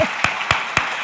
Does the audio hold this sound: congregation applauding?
yes